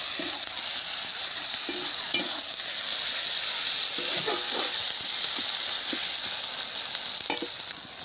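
Tomato and a ground paste of coriander, cumin and ginger sizzle steadily in a hot pan with onion and garlic for a rohu fish-head curry, with scraping stirs cutting in now and then throughout.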